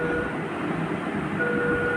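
A train rolls past a closed railway crossing as a steady, continuous rumble of rail traffic holds at a constant level from start to finish, with no voices present.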